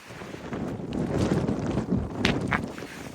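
Wind buffeting the microphone beside the Salt River, a continuous low rumbling roar with gusty swells and a few brief higher rustles, nearby and fairly loud.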